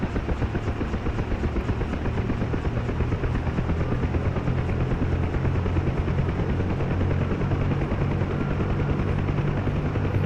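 UH-1 Huey helicopter rotor and turbine spinning up in DCS World, a loud, steady, dense whirring drone that continues throughout with no voices.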